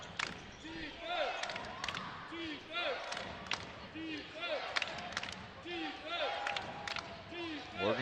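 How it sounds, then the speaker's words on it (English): Crowd noise fills an arena late in a women's college basketball game featuring Oregon against Grand Canyon, with sneaker squeaks, ball bounces and a commentator talking over the rising cheers. "Oregon crowd getting into it with less than 3 minutes to play here in this one."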